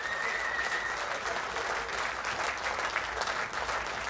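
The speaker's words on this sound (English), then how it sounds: "Can we have a collective round of applause for our two boxers?" A boxing-event audience applauds the two boxers after their bout, a dense, sustained burst of clapping from a large crowd that fills the room evenly with no break.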